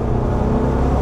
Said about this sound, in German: Oh, zieht schön durch, also tolle Maschine. Der V8 war ein super Motor seinerzeit.